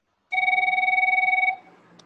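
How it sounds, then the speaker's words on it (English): An iPhone rings loud and close in one electronic burst of rapid, evenly pulsing tones lasting just over a second. It cuts off abruptly and leaves a quiet room. "iPhone, your phone is ringing."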